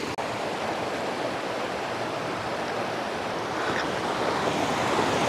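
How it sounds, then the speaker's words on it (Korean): Rushing mountain stream water beside a campsite, a steady broadband wash with no break, close and fairly loud, carrying on alone throughout. "근데 물소리가 엄청 시원합니다."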